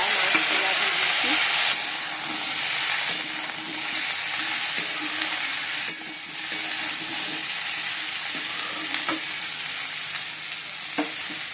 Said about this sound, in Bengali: জিরে, পাঁচফোড়ন, শুকনো লঙ্কা, তেজপাতা ফোড়ন দিয়ে ভালো করে ভেজে নেবো, একটু লাল লাল করে।